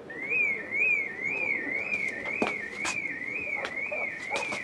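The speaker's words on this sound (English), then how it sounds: "It's the car alarm" A car alarm wails nearby in a steady repeating up-and-down whoop, loud and continuous, with scattered clicks and knocks over it and no talking.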